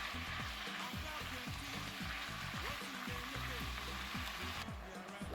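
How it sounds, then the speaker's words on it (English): Chicken and garlic frying in a pot while being stirred, a steady close sizzle with scraping strokes of a utensil throughout, no voices. "Into that, I'll add in my garlic and give it a good stir."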